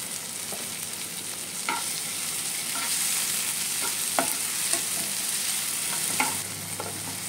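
Chopped tomatoes and salt fry in a pan for Bengali bata fish curry, a steady soft sizzle with occasional spatula stirs and taps on the pan, close and without talk.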